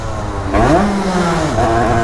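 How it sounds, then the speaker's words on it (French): A KTM motorcycle engine with a new KRM cartridge runs nearby, surging and snatching, its revs rising and falling unevenly with a slightly jerky, surging tone; no one speaks. "la moto en fait elle est bien réglée, c'est juste qu'elle broute"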